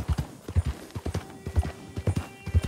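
Horse hooves clip-clopping at a steady walking rhythm in Red Dead Redemption 2, with evenly spaced, fairly close thuds and no talk over them.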